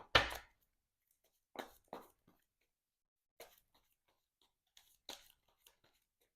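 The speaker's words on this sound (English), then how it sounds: "let's shuffle up our player deck" Several quick papery riffles as a Marvel Champions player deck is shuffled, in short separate bursts with pauses between them, fairly quiet and close.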